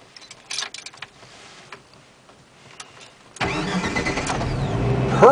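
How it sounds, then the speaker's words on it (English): A few small clicks and rustles inside a manual-transmission car, then an engine cranks and catches, settling into a steady close idle. "Start the engine."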